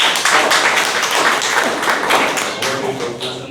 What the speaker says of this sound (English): please welcome Toastmaster Nitin with thunderous round of applause